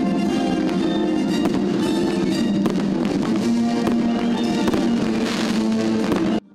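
Celebratory fireworks salute in a Russian industrial city: dense, continuous crackling and popping bursts layered over a loud rumbling roar, many sharp reports in rapid succession, with no voices heard.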